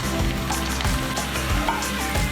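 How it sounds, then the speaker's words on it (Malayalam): Chicken pieces sizzling in hot butter in a pan, a steady close frying hiss with small pops and crackles throughout, no voices. "ഇത് ചിക്കൻ നമ്മളിനി ബട്ടറിലോട്ട് ഇട്ട് കൊടുക്കുകയാണ്."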